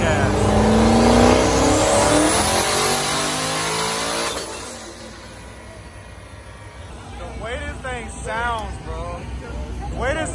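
A car engine revs hard on a dyno at 20 psi of boost on race gas, a loud rising roar that drops back to a lower rumble. Voices talk over the tail end.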